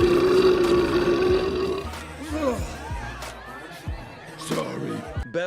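A loud, drawn-out burp from Ben, the rocky Thing, in a crowded nightclub scene in Fantastic Four: Rise of the Silver Surfer, followed by crowd murmur, grunts and scattered voices.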